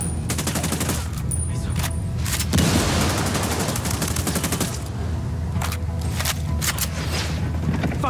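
Heavy, continuous gunfire from enemy Sicarios in Ghost Recon Wildlands, dense rapid bursts and booms running the whole time, loud and close with no break.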